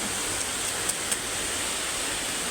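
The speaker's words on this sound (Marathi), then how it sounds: "एवढा जोरात पाऊस आला आहे" Heavy rain pouring down hard in a steady, dense roar that fills the whole stretch, with a couple of brief knocks near the middle.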